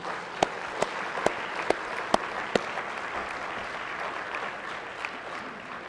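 Applause for special guests standing in a state Senate gallery during a floor session, a steady wash of clapping from the assembled room with a few sharper individual claps punctuating the first few seconds.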